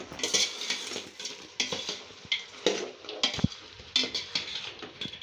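Curry with country chicken is stirred in a metal cooking pot, with a spoon scraping and clinking against the pot in repeated close strokes over a soft background sizzle, with no talk.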